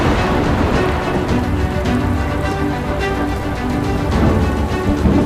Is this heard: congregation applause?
no